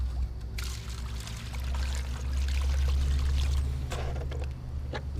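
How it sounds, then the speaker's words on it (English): Water pours and splashes continuously as concentrate is rinsed out of a super scoop into a gold pan beside a river, a steady close rushing flow with a low rumble beneath and sharper splashes toward the end. "You wash it right into your pan"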